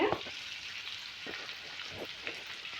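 Finely chopped onion sizzles and crackles in hot oil in a pan, a steady close frying hiss with small pops and a brief stirring scrape at the start.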